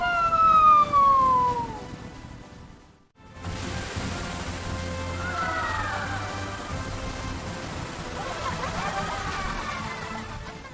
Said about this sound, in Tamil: நான் தான் ஃபயர் இன்ஜின், தீயணைப்பு வாகனம்.